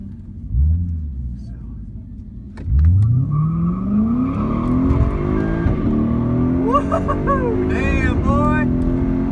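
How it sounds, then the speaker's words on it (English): Ford Lightning pickup truck engine starting up, rumbling, then revving and accelerating hard with rising pitch, loud and close at a drag-racing event, with people talking and exclaiming over it. "Next up is a Ford Lightning truck."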